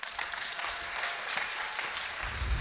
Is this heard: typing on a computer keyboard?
no